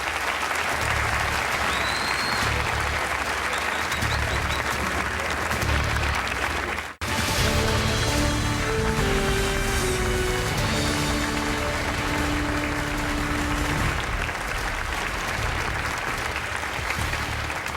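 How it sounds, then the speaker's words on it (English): Audience applause at a Republican presidential debate in Simi Valley, California: a long, dense, steady roar of clapping from a large crowd that stops abruptly, then resumes under swelling music. "Please give some applause to the candidates."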